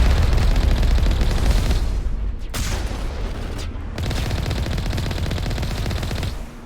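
Heavy automatic gunfire from a main gun rattles in dense, continuous bursts at a drop ship in the Mass Effect video game, with a short break partway through before firing resumes loudly to the end.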